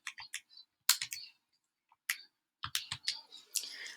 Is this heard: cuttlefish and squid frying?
no